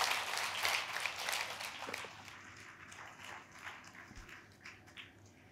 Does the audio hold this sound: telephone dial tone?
no